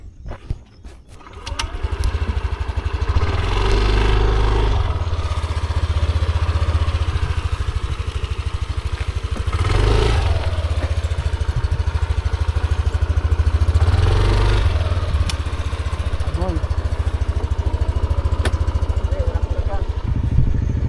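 A city motorcycle engine hums steadily while riding down a slippery road, a continuous mid-pitched drone that swells and eases with throttle changes over about twenty seconds, with people talking over it.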